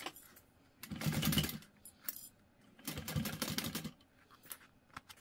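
A sewing machine stitches together a fabric bag with a short zipper, running in two brief bursts of humming, clattering stitching separated by a pause, close and fairly loud with small handling noises between and no talk.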